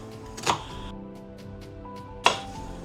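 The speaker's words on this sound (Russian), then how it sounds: "Я сейчас в первую очередь порежу лук и морковку, мы сделаем зажарку для этого супа." Two sharp knife chops through onion and carrot on a cutting board, about two seconds apart, close and distinct against a quiet kitchen background.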